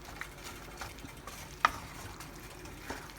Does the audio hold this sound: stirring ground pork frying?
yes